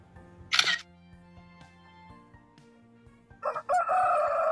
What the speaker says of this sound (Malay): Bunyi ayam ayam berkokok.